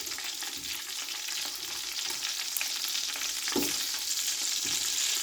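Steady, loud sizzling of onions searing in a hot pan for pot-au-feu, with a few scraping stirs breaking through the continuous hiss.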